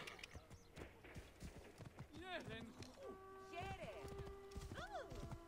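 Hooves clip-clop in a quick galloping rhythm as a horse runs in the video game Assassin's Creed Origins, with ringing in-game effects and chimes over the hoofbeats and faint, distant game sound underneath.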